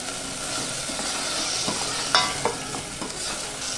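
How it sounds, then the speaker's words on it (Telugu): Tomato sizzling in a frying pan as pounded masala is stirred in for pepper rasam, a steady close crackle with a few sharp spoon scrapes and clinks, no voices. "టొమాటో కొద్దిగా వేగిన తర్వాత ఇందులోనే మనం దంచుకున్న మసాలా వేస్తున్నాను"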